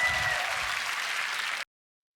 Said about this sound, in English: One more round of applause. Give it up.